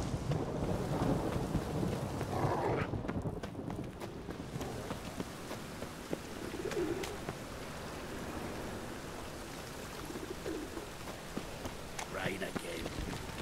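Steady rain and rolling thunder from a storm in The Witcher 3: Wild Hunt, a dense, continuous wash of rainfall with low rumbles, with a voice speaking over it at times.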